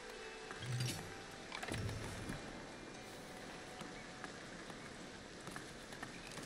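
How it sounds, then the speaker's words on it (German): Steady rain falls in the building game Foundation, a constant soft hiss of drops with a couple of brief low thumps early on, moderately quiet and with no one speaking. "also jetzt haben wir voll den Regen"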